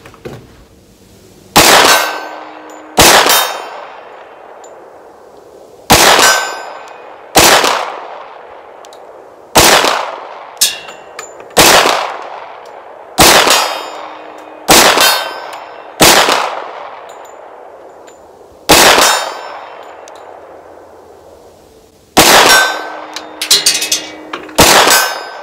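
Repeated shots from a Springfield XDM Elite 10mm pistol strike steel targets outdoors, some fired one-handed: about a dozen loud cracks at irregular intervals of one to three seconds, each followed by a sustained metallic ring that slowly fades.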